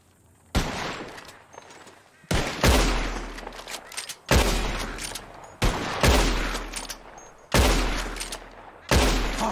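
Gunfire in the video game Red Dead Redemption 2 comes as a run of loud, booming shots at irregular intervals, each with a sharp attack and a rumbling decay. There are about six blasts in close succession.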